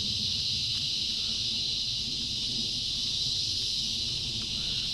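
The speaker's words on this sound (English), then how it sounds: "Sorry for the cicadas." Cicadas in Florida sky-open surroundings drone as a steady, loud high-pitched buzz throughout, with low outdoor rumble beneath and no pauses.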